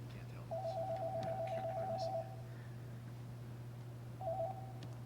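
A call connects on a school board meeting's phone-in line: a long series of rapid electronic beeps, then a shorter burst a couple of seconds later, over a steady low mains hum.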